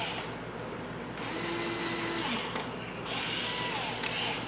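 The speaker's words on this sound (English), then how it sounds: "we're going to go ahead and get our pilot holes drilled" A drill with a 1/16 inch bit bores pilot holes, whirring in short bursts separated by brief pauses, with a motor tone rising and falling with each hole.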